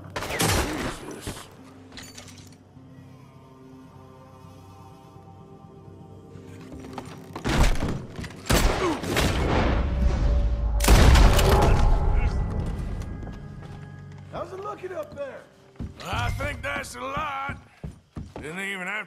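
Gunfire in Red Dead Redemption 2 during a shootout, sharp loud bursts of several shots in clusters amid quieter stretches of ambience, mechanical clicks, and speech in between.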